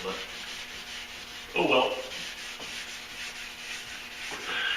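Hand wet-sanding of primer on truck doors in a Duramax project, soft steady rubbing strokes with one brief louder scrub, a quick spoken remark and faint background hum.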